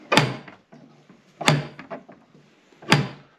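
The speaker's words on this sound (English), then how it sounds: "there is two ways to knock a door" Three firm, evenly spaced knocks land on a door in an ancient town in the Libyan Sahara, each a loud, close wooden thump followed by a brief rattle, with no voices.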